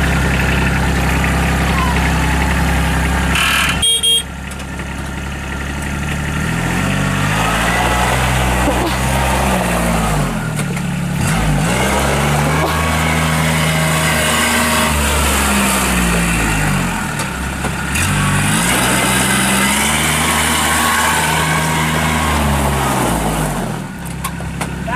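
A 2011 Kubota RTV1140 CPX 4x4 side-by-side fitted with a snow plow rumbles close and loud after starting, its diesel engine revving up and down in slow repeated swells as someone talks over it.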